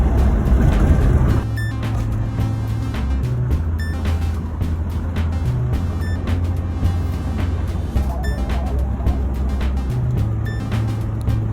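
A Volvo 240 with K-Jetronic fuel injection idles steadily up close, a low even engine hum with a faint recurring beep-like tone and small clicks, no talking.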